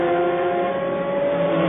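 A BMW prototype race car at the 1999 Le Mans 24 Hours pulls out of the pits, its engine note steady and loud with layered tonal harmonics for the whole stretch, no voices over it.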